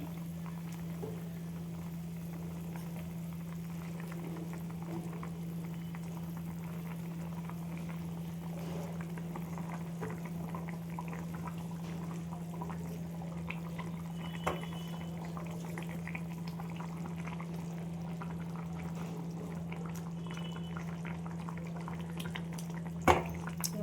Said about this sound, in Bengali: দেখো ঝোলটা ফুটছে